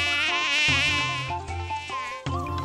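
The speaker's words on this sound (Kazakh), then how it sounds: "Маса." A mosquito's high, thin whine with a strong tonal, harmonic-rich buzz, rising and wavering in pitch and lasting nearly three seconds, heard close and alone.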